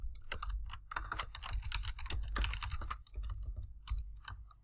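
Rapid clattering keystrokes on a computer keyboard while entering figures into an Excel capital budgeting spreadsheet, close and busy with brief pauses between bursts.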